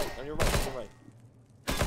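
A vent being shot and broken in Counter-Strike: Global Offensive, with sharp close gunfire bursts and a clattering impact, a short quiet gap, then another shot.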